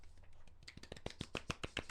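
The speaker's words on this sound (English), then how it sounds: "Golf clap? Golf clap." A few people give a soft golf clap on a podcast about films, light sparse hand pats that start faint and grow into a quick, close, irregular patter.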